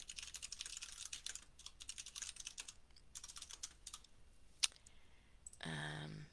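Computer keyboard keys clack in quick, irregular bursts of typing, fairly close but quiet, with a sharper single click near the end before a short tonal sound cuts in.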